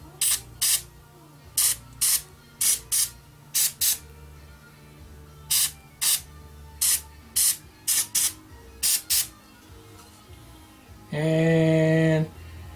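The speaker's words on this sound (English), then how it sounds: "I'm going to hit it with a little activator." Activator sprays onto resin in a single loud hiss lasting about a second and a half near the end, after a long run of sharp, evenly spaced mechanical clicks.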